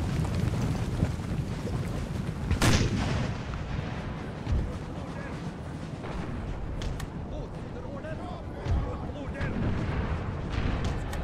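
Cannon and artillery fire in the Napoleonic battle game Napoleon: Total War, a steady loud rumble of distant booms with one sharp nearby blast early on, under continuous battle din.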